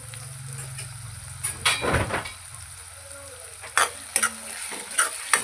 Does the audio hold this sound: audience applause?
no